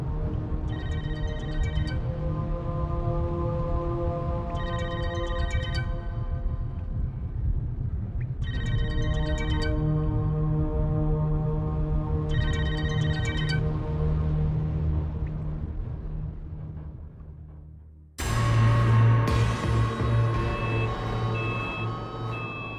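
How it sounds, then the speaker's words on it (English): A phone rings in repeated electronic bursts, two chirping pulses per cycle with short pauses, over a steady low hum; the tone changes near the end. "Momoko calls Junko's mobile phone."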